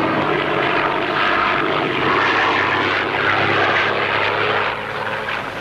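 A propeller airplane engine drones steadily in flight in a 1960 Tintin cartoon, a loud continuous buzzing roar that eases slightly near the end.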